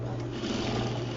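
A sewing machine understitches the lining of a pair of pants, its steady motor whir running continuously and evenly at close range, with a low constant hum beneath.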